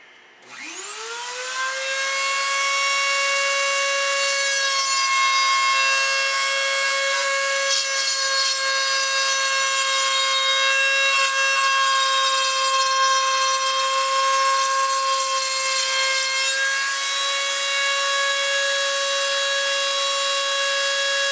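A router cuts through a whole wooden piece in a workshop, a loud, steady high-pitched whine that spins up quickly and holds evenly for about twenty seconds, alone with no talk.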